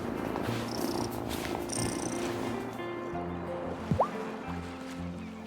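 A cat purrs steadily in the video game Wylde Flowers, a soft continuous rumble under a gentle game soundscape with no talking.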